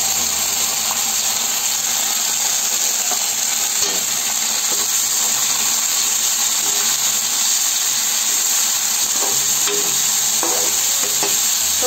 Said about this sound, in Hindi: ये जो हमने मटर को पीसे हुए थे ये अब उस पर डाल देंगे उसको फ्राई करेंगे